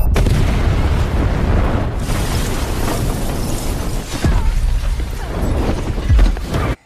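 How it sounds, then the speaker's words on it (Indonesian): A bomb blast in the 2021 action film The Protégé roars loud and sustained, with heavy rumbling and crackling debris continuing throughout before cutting off abruptly. "Setelah ledakan itu"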